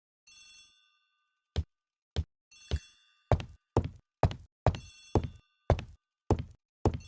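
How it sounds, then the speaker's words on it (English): Old-fashioned telephone ringing in a hall, a bright bell trill followed by a steady series of sharp, evenly spaced rings, heard alone without voices. "The telephone in the hall is ringing."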